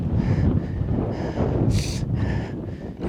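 Strong gusting wind on a high mountain trek toward Kiagar Ri, a loud continuous rumbling buffet across the microphone with bursts of hissing rush rising and falling over a few seconds.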